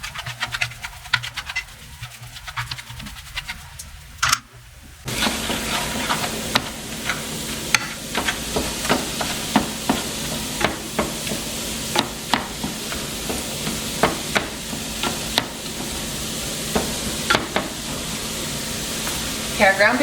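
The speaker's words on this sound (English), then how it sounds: "So we're just going to cook this over medium-high heat until it's done." Ground beef sizzles over medium-high heat while a spatula repeatedly breaks it up, so a dense frying hiss is punctuated by regular scraping knocks against the pan, close and loud, after a quieter opening stretch.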